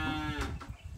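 A cow gives one short, close moo, followed by faint rustling.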